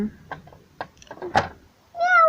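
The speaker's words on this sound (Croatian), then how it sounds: "Zamjaukala je mala maca" A few soft taps and rustles, then a single clear, drawn-out cat meow close by at the end.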